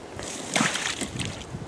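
A brief slosh and splash of dirty water being poured out of a pig pen waterer, a short burst of splattering that quickly fades.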